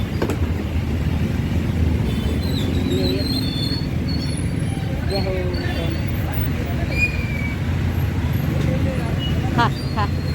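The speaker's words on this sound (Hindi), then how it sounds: "बहुत ज़्यादा ट्रैफिक है भाई, बहुत ज़्यादा" Heavy road traffic roars as a steady, dense wash of engines and tyres close by, with occasional higher tones and faint voices beneath.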